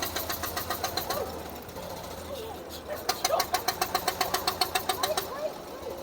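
A vintage car pulls away at a London classic car show. Its engine idles unevenly, then settles into a loud, fast rhythmic chugging of regular pulses as it drives off, with voices nearby.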